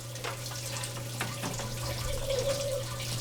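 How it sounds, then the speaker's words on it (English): Water runs steadily through the pump and emitters of an aeroponic growing system, a soft continuous trickle with a low hum beneath it and no voices. "if you hear the water flowing"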